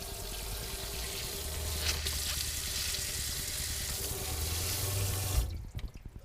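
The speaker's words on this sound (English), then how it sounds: "now to see if the faucet works" Water streams from a newly installed RV kitchen faucet with a pull-out sprayer, a steady close hiss and splash into the sink that swells slightly near the end before cutting off abruptly.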